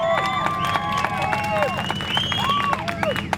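A crowd cheers, whistles and shouts to judge a battle at the IDC 2022 Sunday battles, a dense, steady roar of voices with shrill whistles rising over it throughout.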